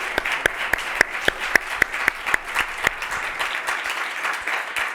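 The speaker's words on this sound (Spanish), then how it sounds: "un gran aplauso para las dos ponentes" Audience applause for two speakers at an academic talk, a steady wash of clapping with a few sharp, louder claps standing out early on, holding at moderate volume for about five seconds before thinning slightly.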